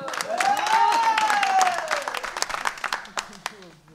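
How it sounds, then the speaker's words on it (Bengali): Audience at a comedy club show claps for a performer, with a sustained musical tone beneath; the clapping starts dense, then thins out into scattered individual claps near the end. "হৃদয়ের জন্য জোরে তালি হোক।"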